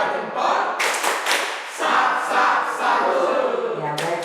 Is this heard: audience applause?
yes